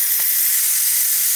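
Steam hisses steadily out of the vent of a kitchen cooking appliance, a close, continuous airy rush that stays even throughout with no talk.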